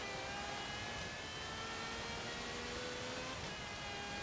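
A 1996 Ferrari F50 GT V12 in Forza Horizon 3 drones steadily through a snowy hill climb, a sustained high engine tone at constant revs with a faint noisy wash, heard alone without talk.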